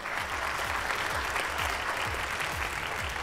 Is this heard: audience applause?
yes